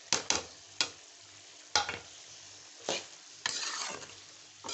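Chicken for shawarma fries with salt, cumin and black pepper in a pan, a quiet background sizzle punctuated by several sharp, irregular stirring scrapes and knocks of a utensil against the pan, with no talking.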